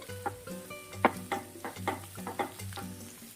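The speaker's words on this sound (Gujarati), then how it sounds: "આપણું આ સ્ટફિંગ બધું ઉમેરી લેશું અને મિક્સ કરી લેશું સરસ રીતે" A spoon stirs moong dosa stuffing with half a spoon of turmeric in a hot pan, giving repeated scraping strokes over a soft, steady sizzle, close and clear with no talking.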